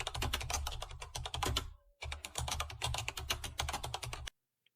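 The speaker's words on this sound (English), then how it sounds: "So I'll type table dot promote" Steady rapid typing on a computer keyboard while entering a Power Query formula, dense clatter of keystrokes in bursts, close and fairly loud, with a brief pause midway and silence at the end.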